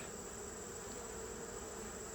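Honey bees crowd the top of an open hive during a beekeeping field exam, a faint, steady, unbroken buzzing hum with no voices.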